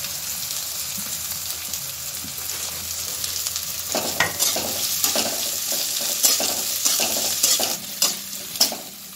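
Sliced onions and green garlic stir-frying in a hot pan for Manchurian, a loud steady sizzle with scraping spatula strokes growing more frequent near the end.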